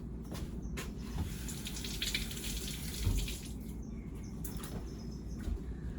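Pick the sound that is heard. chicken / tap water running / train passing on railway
tap water running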